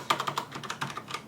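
Keys on a Logitech G710+ gaming keyboard are typed in a quick run of soft, quiet keystrokes, close and clear with no talk over them.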